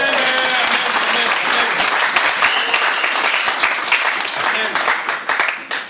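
A church congregation applauds and cheers for Jesus during a worship service: dense, sustained clapping mixed with crowd voices fills the room at full strength, then thins slightly toward the end.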